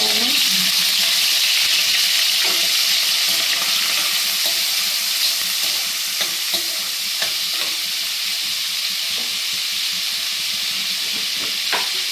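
Raw prawns fry in a pan with a steady broad sizzle throughout, stirred now and then with light scraping clicks, close and continuous for Telugu-style prawn and egg curry with tender tamarind leaves.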